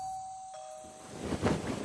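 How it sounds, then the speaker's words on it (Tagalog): A two-tone ding-dong doorbell chime rings clearly at the start, a sustained ringing tone fading as a louder rustling, muffled noise swells toward the end. "Isang doorbell ang gumising sa akin."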